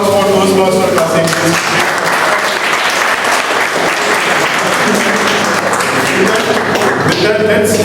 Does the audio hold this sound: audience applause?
yes